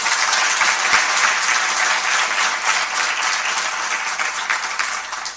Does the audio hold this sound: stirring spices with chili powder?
no